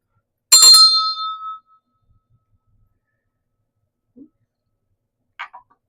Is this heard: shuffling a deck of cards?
no